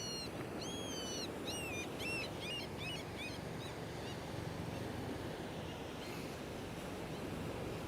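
A short-billed gull calls at the shore, a series of high, rising-falling cries in the first few seconds over steady surf and wind, fairly distant.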